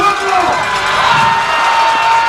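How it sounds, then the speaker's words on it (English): A Peabody high school football crowd cheers and shouts at Walter Kilser Stadium during a semi-final game, a loud, sustained roar with whoops. "Listen to this Peabody crowd as they erupt to it"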